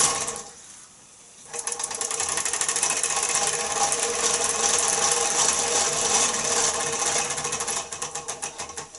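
A Bing Pluto toy steam engine runs in reverse with a steady, busy mechanical whirr and rapid rhythmic chatter. The sound starts after a brief quieter pause, holds constant and close, then turns more pulsing near the end.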